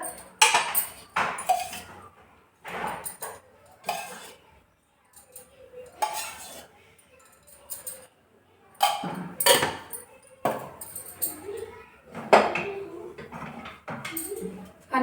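Urad dal flour roasting in ghee as a spoon stirs it in a pan, making irregular clinks and scrapes of metal on the pan in short bursts, close by, with someone talking in between.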